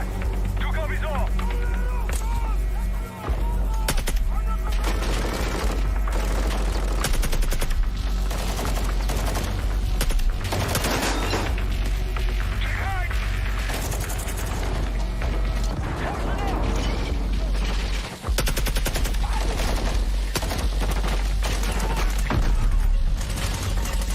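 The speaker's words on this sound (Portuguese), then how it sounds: "As partículas da explosão." An explosion and gunfire in God of War Ragnarok or a similar showcase game: dense, continuous loud bursts of rapid shots and crashing blasts fill the whole stretch, with voices talking over the clamour.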